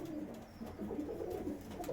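Soft, low pigeon cooing repeats in gentle rounded phrases, fairly close, with faint background noise and no talking.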